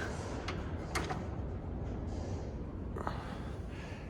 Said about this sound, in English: all that racket in the background, that happens to be the wind hitting up against the one shed door